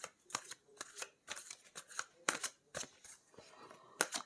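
Tarot cards being shuffled and handled, quick crisp riffles and snaps repeating in rapid bursts with short pauses between, close and fairly quiet.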